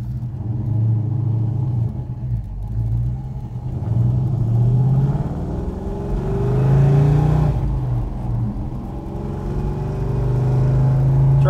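An orange 1969 Dodge Super Bee driving on the road, a loud, close V8 rumble that swells and eases as it accelerates and cruises, with wind and road noise and no talking.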